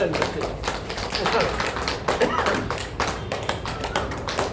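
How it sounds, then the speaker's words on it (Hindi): A group at a yoga session claps hands in a steady, brisk rhythm that continues throughout, with voices faintly mixed in. "तालियां बजाएं"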